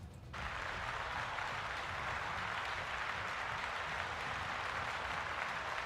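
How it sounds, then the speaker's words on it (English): Sustained applause from a live audience at a D&D homebrew review event starts abruptly and holds as a dense, even wash of clapping for several seconds, fairly loud and without voices on top. "Let's give her a round of applause."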